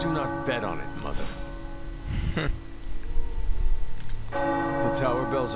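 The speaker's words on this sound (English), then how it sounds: "The tower bells are ringing." Tower bells toll in the video game Marvel's Midnight Suns, sustained resonant strikes that fade and return, with voices speaking between and over the ringing.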